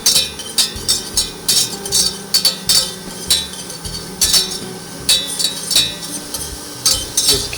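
Shallots with thyme and rosemary cooking in a pan for chicken, a low steady sizzle under repeated clinks and scrapes of a utensil stirring, no voices.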